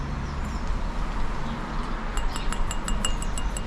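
Freshly fired clay pots, still very hot from the kiln, tapped together in a few quick, bright clinks that ring out near the end over a steady background hiss.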